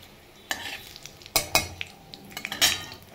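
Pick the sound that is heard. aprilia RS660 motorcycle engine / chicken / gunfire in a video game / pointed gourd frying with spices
pointed gourd frying with spices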